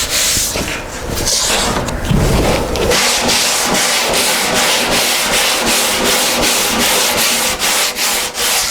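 Loud, close rasping strokes of a hard sanding block working Bondo body filler on a curved car panel, a continuous scrub that settles into a quick regular back-and-forth rhythm, no talking.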